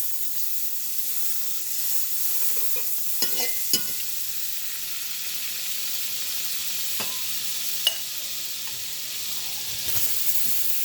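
Butter sizzling in a pan as the base for a cream sauce, a steady soft hiss with a few faint clicks and taps, heard fairly close and without talk.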